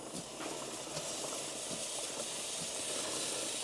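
Chain lube sprayed onto the inside of a Kawasaki Versys 650 LT drive chain over cardboard, with the rear tire turning: a steady, continuous aerosol hiss held for several seconds with no talk.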